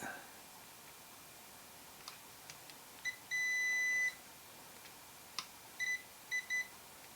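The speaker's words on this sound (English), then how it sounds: "I could put it in continuity mode so you can also hear it" An AstroAI WH5000A 6000-count TRMS multimeter in continuity mode beeps against a circuit board trace: a few short blips, one sustained tone about a second long, then several quick beeps, clear over a quiet room.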